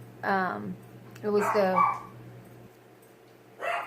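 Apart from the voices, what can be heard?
dog barking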